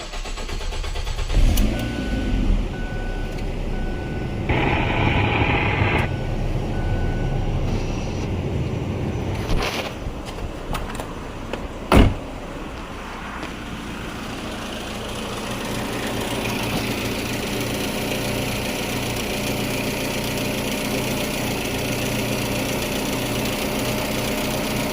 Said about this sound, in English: Let's turn the car on. We'll start it up.